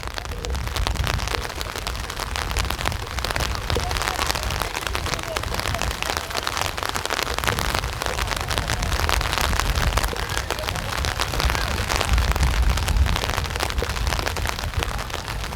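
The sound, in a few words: rain falling at outdoor football game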